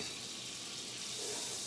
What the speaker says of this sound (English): You see how I turn my back on that pan and it starts sizzling?